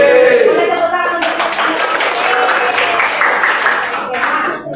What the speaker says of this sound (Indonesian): Boleh tepuk tangan untuk